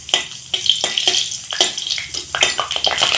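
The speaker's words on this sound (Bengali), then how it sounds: "তেলে দিয়ে দেব 4টে শুকনো লঙ্কা, দিয়ে লাল করে ভেজে নিব।" Four dried red chillies frying in hot oil in a kadai, crackling and sizzling with bursts of spluttering and stirring scrapes at a close, loud level.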